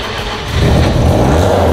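A Mazda RX7 engine cranks and fires up, its rumble swelling after half a second into a loud, steady running roar close by.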